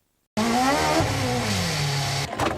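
A car engine revs hard and continuously for about two seconds, its pitch climbing and then easing off, loud and close with no talking, before cutting to a short burst of other noise.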